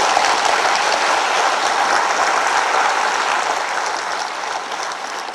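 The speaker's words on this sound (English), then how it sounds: "Please give a round of applause to this most powerful lady." A large audience applauds steadily at a live interactive session, with dense, continuous clapping that fades slightly toward the end.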